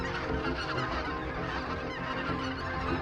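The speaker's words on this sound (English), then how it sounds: "Whoa, look at the geese coming." Flying geese honk in a dense, continuous chorus over open northern skies, many birds calling at once, fairly loud and close.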